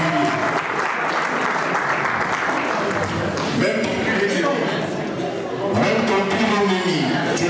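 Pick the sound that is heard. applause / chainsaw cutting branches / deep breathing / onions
applause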